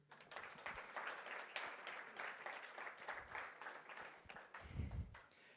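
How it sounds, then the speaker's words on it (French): An audience applauds at a live talk, a soft, even spread of clapping heard faint and somewhat distant, continuing steadily with a low thump near the end. "on peut l'applaudir"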